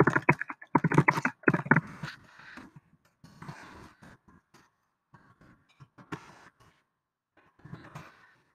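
Computer keyboard typing, a dense burst of keystrokes at first, then sparser scattered taps and short runs, close and moderately loud with pauses between.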